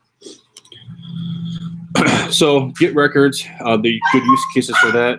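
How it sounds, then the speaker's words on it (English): A pet dog whimpers and barks faintly in the background of a home office while someone talks steadily over it during an online software presentation. "that's my dog in the background."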